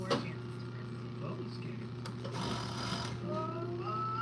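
A sewing machine runs close by with a steady hum and a faint mechanical rattle, stitching the side seams of stretchy dancewear, with a few brief clicks and shifts partway through.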